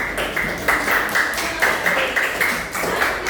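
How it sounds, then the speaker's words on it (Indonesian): Students in a classroom clap for a group in steady, dense applause lasting a few seconds, fairly close and loud with a faint ringing tone underneath. "tepuk tangan buat kelompok"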